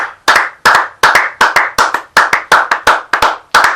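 A church congregation claps together in a brisk, steady rhythm to acclaim the Lord, each loud, close clap sharp and evenly spaced, about three per second, with no voices over it.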